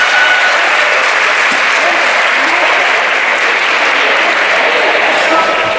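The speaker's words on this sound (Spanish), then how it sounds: "Los aplausos llevan sonando desde hace varios minutos y no cesan." Loud, sustained applause from a wrestling crowd before a ladder match, a dense unbroken roar of clapping with a commentator's voice partly audible underneath.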